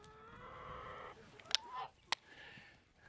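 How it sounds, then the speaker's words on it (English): Chickens on a farm, including a Rhode Island Red and a Turken, give a few faint clucks and a higher call amid soft background noise, with two sharp knocks and a voice nearby. "Now, as you can see, we have lots of chickens."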